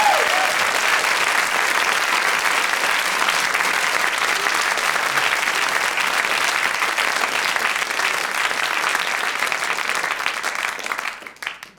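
Sustained, dense applause from a radio comedy studio audience, loud and steady for about eleven seconds before tapering off at the end, with no voices over it.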